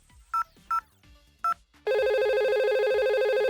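Three short dial-tone beeps as a number is entered on a simulated VoIP phone in Packet Tracer, followed by a loud, steady electronic ringing tone that continues to the end, with no voices.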